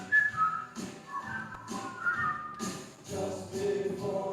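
Worship service congregation whistling along to a sung tune, several melodic whistled phrases rising and falling over a soft background of shuffling and murmur, moderately loud and fairly close.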